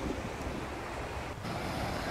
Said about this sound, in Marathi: तर हा गणेशगोळेचा समुद्र किनारा